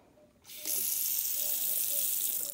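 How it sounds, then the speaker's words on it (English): Water from a bathroom sink tap starts abruptly and runs in a steady, close hiss for a couple of seconds. "The water runs."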